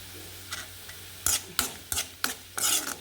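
A spoon stirs dried red chillies and onion in a pan after mustard seeds have popped, giving a handful of distinct, loud scraping strokes over a soft sizzle, with no voices.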